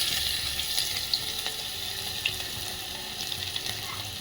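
Onion fries in hot coconut oil after mustard seeds have popped, making a continuous close sizzle with a few faint crackles and soft stirring knocks, steady and without any talking.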